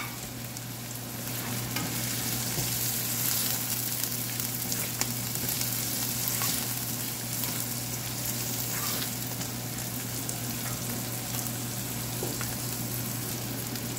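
Spicy chili stir-frying in a pan for pineapple fried rice, a steady close sizzle with occasional scraping of the utensil, continuous throughout without talk.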